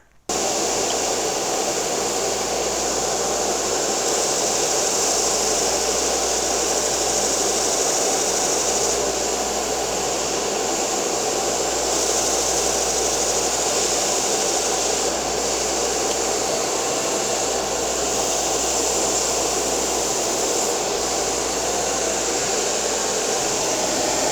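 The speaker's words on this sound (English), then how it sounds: "Go ahead and turn on the shop vacuum, so it's just gonna be very loud" A shop vacuum runs loud and steady from start to finish, a constant whooshing roar with an even motor hum and no voices.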